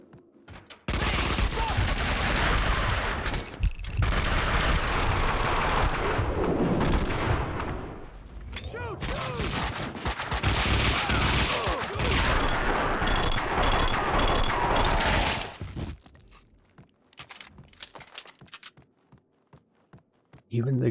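Gunfire from the Max Payne 2 video game comes in loud, dense bursts of rapid shots that run almost nonstop, backed by sustained tonal game sounds and a brief lull toward the end.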